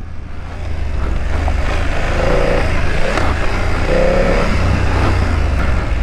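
Steady engine hum and wind rush come from a 2024 BMW F900GS Trophy motorcycle on the move. The loud, close drone swells slightly a couple of times as the throttle changes, with no talking.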